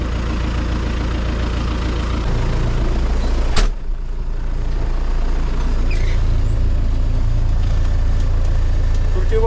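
An MTZ 892.2 tractor pulling a compactor while cultivating ploughed ground for soybeans gives a steady, loud diesel drone throughout, with a brief sharp knock midway and no talk.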